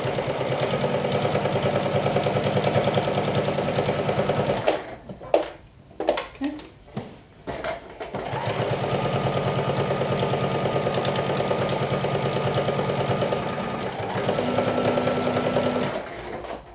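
Sewing machine runs steadily topstitching a shirt yoke seam allowance on a lumberjack shirt, a close whirring hum that pauses for a few seconds of fabric handling, then resumes for a long continuous run.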